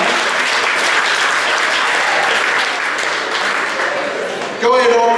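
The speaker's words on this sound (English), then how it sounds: "Give them a big round of applause." Big round of audience applause, loud continuous clapping that holds steady before being cut off abruptly as a voice begins speaking at the end.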